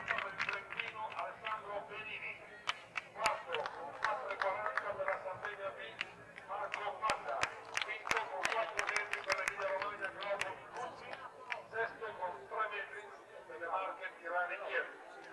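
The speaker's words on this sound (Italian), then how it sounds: "Un applauso a Ragone, mentre proseguono il 1500." Spectators applaud athlete Danilo Ragone at a 1987 outdoor track meet in Oristano, scattered claps rising and falling under a male announcer's voice, which is heard throughout.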